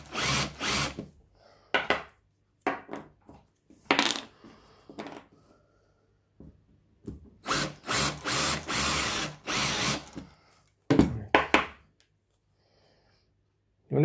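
A power drill countersinks a screw hole, giving several short, sharp whirring bursts separated by pauses, heard up close.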